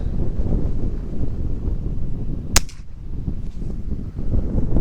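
A single sharp rifle gunshot cracks out midway, outdoors while hunting rabbits, over constant low rumbling wind buffeting the microphone.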